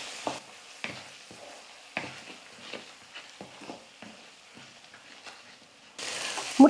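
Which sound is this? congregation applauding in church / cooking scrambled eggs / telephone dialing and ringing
cooking scrambled eggs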